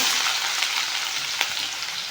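Onion frying in a pan for a brinjal and prawn dry palya, a steady dense sizzle with faint crackle and one brief stir near the end, close and continuous with no talk.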